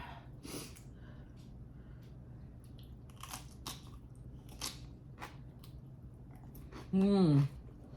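Someone eats mung bean porridge with Korean side dishes, with soft, scattered chewing and mouth sounds close up. A short hummed voice comes near the end.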